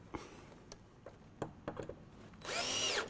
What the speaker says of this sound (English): And then using short screws, but enough that it's going to hold the unit.